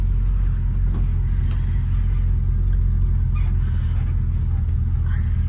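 A red 1965 Ford Mustang convertible with a black top on a test drive gives off a constant deep engine and road rumble, loud and steady from inside the moving car.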